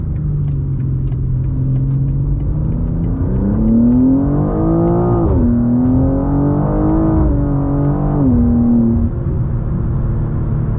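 A 2024 BMW M2's exhaust swells from a steady idle into rising and falling revs, a deep, close burble that lingers throughout.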